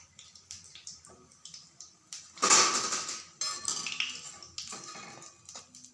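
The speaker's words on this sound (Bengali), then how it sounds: "তোমরা আওয়াজ শুনে বুঝতে পারছো কতটা ক্রিস্পি হয়েছে" Crispy fried snacks made from semolina and raw potato are handled on a plate, giving close clattering and crunchy rustling bursts, one louder burst near the middle, with no talking.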